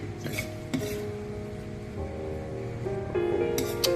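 Braised ox tongue stir-fry with holy basil being scooped onto a plate, with scraping spatula strokes and light clinks of metal against pan and dish, a soft sizzle underneath and a sharper clatter near the end.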